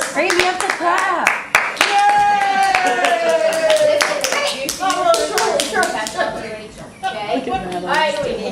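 Several people clap their hands at a family gathering on a Kitty Hawk trip, sharp uneven claps over busy talking, cheering and children's voices close by.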